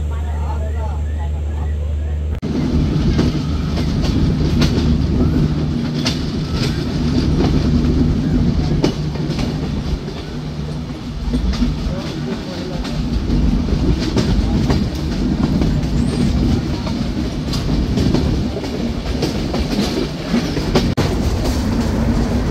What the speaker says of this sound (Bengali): ট্রেনটি এখন প্রবেশ করছে হার্ডিঞ্জ ব্রিজে